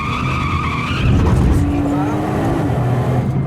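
A race car in a racing game accelerates out of a braking zone, engine note rising with tire squeal under someone speaking French commentary.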